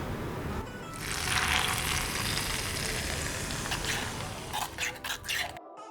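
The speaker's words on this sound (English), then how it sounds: "Okay, and now for the sizzle." Loud, crackling sizzle of hot oil in a pan, surging after a moment and holding steady, with a few clinks and a sudden cutoff.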